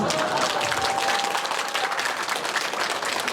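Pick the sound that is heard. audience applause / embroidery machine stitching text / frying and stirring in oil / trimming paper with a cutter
audience applause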